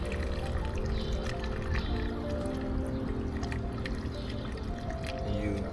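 Fluid poured slowly through a funnel into a reservoir on a Tesla during home maintenance, a steady close trickle and gurgle running without pause under a faint tonal hum.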